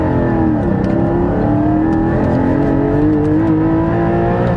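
Porsche GT4 engine revving loudly up close, a continuous rising and falling mechanical drone that holds steady throughout, with no voices.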